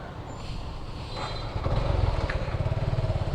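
A brand new Suzuki motorcycle is ridden along, its engine a low, pulsing rumble that grows louder and more throbbing after the first second and a half, with no speech.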